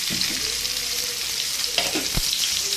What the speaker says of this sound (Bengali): এবার ঝিঙেটা দিয়ে দিচ্ছি ঝিঙেটা একটু সময় ভেজে নেবো